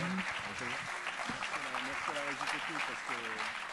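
An audience at a French evening talk applauds, a dense continuous clapping wash with a voice speaking over it throughout.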